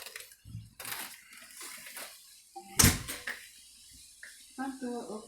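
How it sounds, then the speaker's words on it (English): A house front door opening, with a sharp click and thump of the latch and handle among scattered quieter knocks and a person speaking nearby. "Front door opens."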